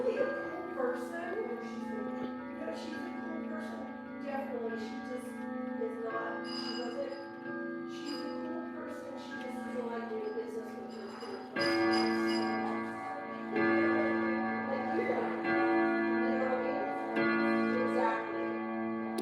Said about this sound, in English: Here's the full chime.